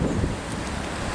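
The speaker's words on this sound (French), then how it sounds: "Le vent dans les arbres." Wind gusting through trees during a storm, a loud broad rushing roar with buffeting against the microphone, heard alone over a brief moment.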